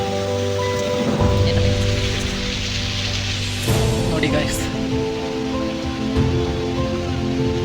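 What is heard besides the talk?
light rain falling outdoors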